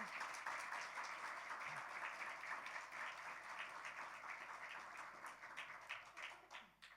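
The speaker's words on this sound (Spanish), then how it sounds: "¿Cuántos le dan un fuerte aplauso al Señor, por favor?" A church congregation gives a sustained round of applause, a dense, faint wash of many hands clapping at a distance that tapers off toward the end.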